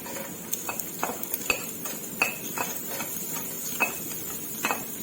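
Chinese sausage stir-fried in a pan for fried rice: a utensil scrapes and clinks against the metal in irregular bursts over a soft background sizzle, with no talking.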